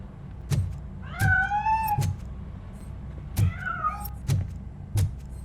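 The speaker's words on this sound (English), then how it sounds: "That cat must be hiding inside." A cat in the video game Robocop: Rogue City meows twice with drawn-out, rising-and-falling cries, set against steady low thumps that recur about once a second in the background.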